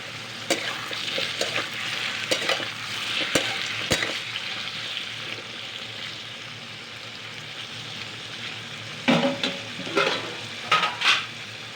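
Pumpkin pieces sizzle in a pan as a spatula scrapes and knocks against the metal, with clusters of louder stirring strokes near the end.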